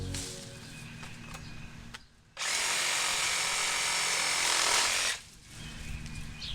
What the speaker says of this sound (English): we're just going to pull some of the branches down and trim them off.